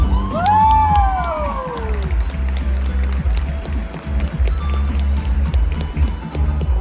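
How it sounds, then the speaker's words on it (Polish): Audience at a cosplay show finale applauding and cheering for a contestant: a sustained crowd roar with clapping, a rising whoop early on over a large hall's low rumble, fairly loud throughout. "Brawa dla niej, proszę."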